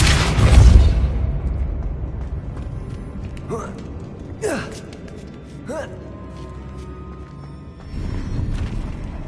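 A spell is cast in the video game Hogwarts Legacy, with a heavy low boom at the start, then several sharp whooshing sweeps and creaking magical effects over a steady game ambience.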